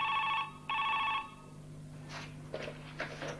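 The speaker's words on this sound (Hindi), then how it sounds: "नादिर भाई का फोन था ना?" A telephone rings in two clear bursts of a bright electronic bell at a steady rhythm, near and loud, followed by faint household knocks and rustles in a quiet room.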